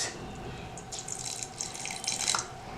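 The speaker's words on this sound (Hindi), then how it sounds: "तो थोड़ा सा पानी डाल देंगे" Water poured into a grinder jar of rice in a home kitchen: a soft, continuous trickling and splashing stream, fairly quiet, with slight surges in intensity and no talking.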